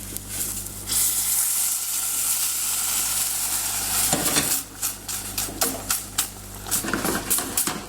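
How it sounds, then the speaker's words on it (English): Milk is drizzled a little at a time into a hot pot while making Mornay sauce, a loud steady sizzle giving way to bubbling and scattered spoon and pan clinks. "Now we're going to add the milk."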